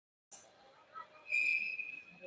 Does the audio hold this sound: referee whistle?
yes